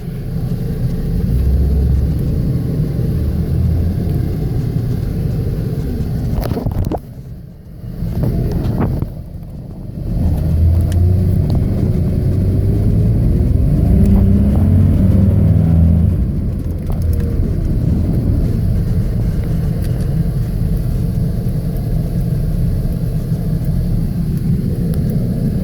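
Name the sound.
Chevrolet Astro conversion van driving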